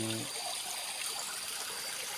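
Stream water flowing at a waterfall below a reservoir in rural Thailand, a faint, steady rushing and trickling wash continuing on its own.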